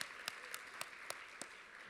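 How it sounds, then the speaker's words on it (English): Light, thin applause from a live conference audience in Detroit at an opening plenary, a handful of distinct claps spaced evenly over a soft background of scattered clapping, quiet and distant. "Yes, you can give yourselves a round of applause."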